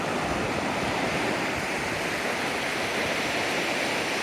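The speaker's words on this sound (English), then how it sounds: "I don't know if y'all can hear me too good with the water running as fast as it is" A fast-running mountain stream in the Smoky Mountains rushes loudly and steadily, a dense unbroken roar of churning water close by with no voices.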